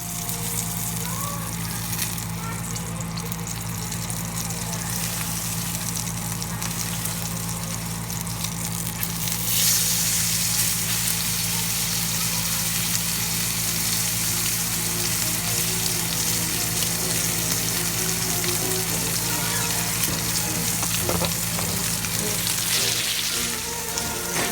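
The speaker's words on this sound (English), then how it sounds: "I'll go ahead and cook some of that fat off on the side and flip it" A dry-aged cote de boeuf sears in a cast iron skillet, its fat edge rendering with a loud, continuous sizzle and spatter that grows brighter about halfway through, with a low steady hum underneath.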